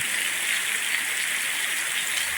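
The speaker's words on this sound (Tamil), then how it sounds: "மழையை பாருங்கள் அடுக்கி பெய்யுது பாருங்க மக்களை" Heavy rain pouring down in Jaffna, a dense, even hiss of countless drops striking surfaces all around, steady and loud throughout with no voices.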